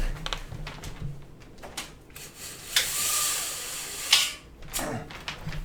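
Window shades being lowered indoors, a rattling mechanical pull followed by a long rustling slide and a couple of sharp clacks as they settle, close and moderately loud.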